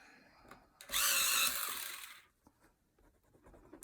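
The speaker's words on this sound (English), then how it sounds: "So I've just got an electric pencil sharpener that you can't see." An electric pencil sharpener grinds a coloured pencil in one loud, steady burst lasting over a second, then trails off into faint handling noises, with no voices.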